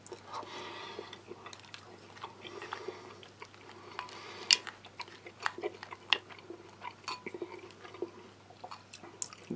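Close, wet chewing of reconstituted US Army MRE oats with blueberries, soft mouth clicks and small bites repeating in an uneven rhythm over a quiet room hum.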